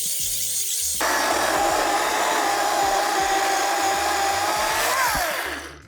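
Milwaukee M18 cordless brushless electric chainsaw spins up abruptly and runs hard at full load, with a loud, steady high whine that holds for several seconds, then begins to wind down near the end. No one speaks.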